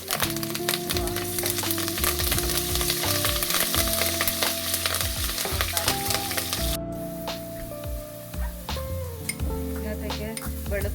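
Curry leaves hitting hot oil with golden-fried onions for a baby jackfruit thoran, a loud dense sizzle with metallic stirring clinks, easing to a softer crackle partway, close up, with a little talking.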